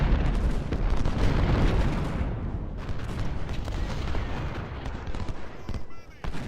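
Artillery guns fire repeatedly in a Civil War battle in Ultimate General: Civil War, loud overlapping booms and bursts rolling continuously through a dense battle din.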